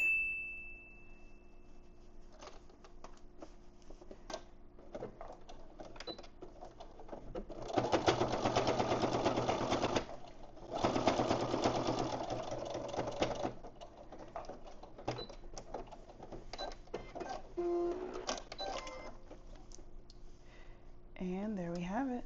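A sewing machine stitching the back ends of a large fabric bow runs in two steady buzzing bursts with a short pause between, close and moderately loud, with a person talking throughout.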